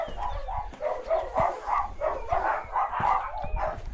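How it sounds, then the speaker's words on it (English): A gang of dogs barks repeatedly in a village setting, several overlapping yaps and bow-wows at mid distance, fairly loud and steady for a few seconds. "A gang of doggos."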